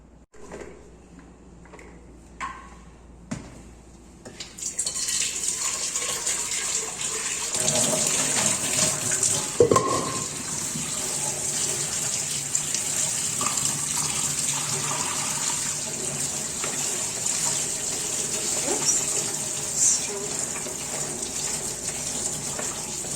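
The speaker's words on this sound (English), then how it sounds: "Now I'm going to give this another thorough wash." Chopped cassava is rinsed under a running kitchen tap: a few clinks of a bowl and utensils come first, then a steady hiss of water gushing into a sink, with occasional knocks and splashes as the pieces are moved.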